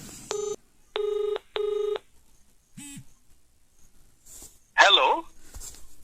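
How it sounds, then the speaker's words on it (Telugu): A mobile phone call is placed: three evenly spaced keypad beeps, then a brief electronic chirp and tone, followed by a burst of close talking. "ఈ నార్మల్ మొబైల్తోని కాల్ చేస్తున్నా, నాకు ఫోన్ వస్తుంది"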